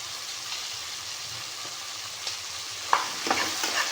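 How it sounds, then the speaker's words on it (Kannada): Potatoes with turmeric and spices frying in a pan while being stirred, a soft steady sizzle with a few sharp scraping clicks near the end, close and fairly quiet. "ಚೆನ್ನಾಗಿ ಮಿಕ್ಸ್ ಮಾಡ್ಕೊಳ್ಳೋಣ."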